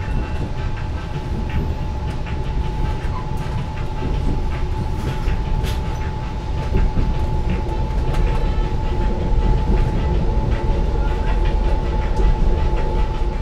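The Taksaka Panoramic passenger train in Indonesia rumbles along the rails, heard from inside the carriage as a steady low roar with rhythmic wheel clatter and a faint whine, continuous and unbroken by talk.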